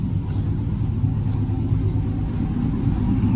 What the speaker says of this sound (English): Let's give it a few revs. I'm gonna rev it right now.